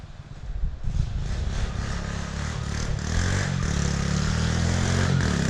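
Alphacross motorcycles ride off-road through an acacia forest, with a steady droning engine note that rises slightly, plus rattling and scraping from the rough track, loud and close throughout.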